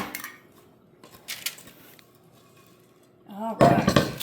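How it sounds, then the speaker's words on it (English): A spatula presses Rice Krispies treats into a buttered pan, giving scattered soft scrapes and taps with clinks against the pan, which build to a louder burst of clatter near the end. "we're just going to go ahead and firmly press all of our Rice Krispies here into this pan"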